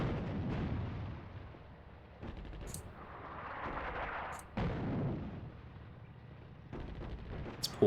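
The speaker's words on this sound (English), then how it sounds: "Artillery strike on those guys." Artillery strike in the World War II strategy game Attack at Dawn: North Africa, set at Tobruk: several deep, booming explosions spaced a second or two apart, each followed by a rumbling tail, with no voices.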